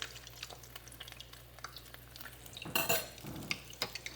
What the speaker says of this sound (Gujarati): સો ગાઈઝ ફાઇનલી જો મેં અહીંયા 1 પીસ નાખ્યો તેલમાં તળાવવા માટે